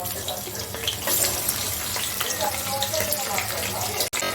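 Half an onion dropped into hot oil for a fish curry, a loud rushing sizzle that swells and then settles into a steady crackle, with a voice talking faintly partway through.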